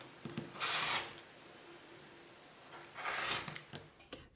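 A rotary cutter trims quilt fabric along a ruler, two short scraping rubs about a few seconds apart, close and faint over a quiet background, with no talk.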